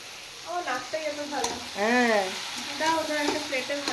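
Chicken sautéing in a pan for chicken pulao, with a steady frying sizzle and stirring scrapes beneath intermittent voiced, wavering sounds.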